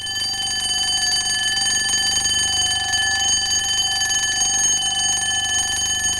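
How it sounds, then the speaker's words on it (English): An alarm clock rings in a loud, continuous, steady metallic jangle that holds without a break, with no voices. "An alarm clock"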